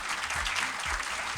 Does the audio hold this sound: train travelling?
no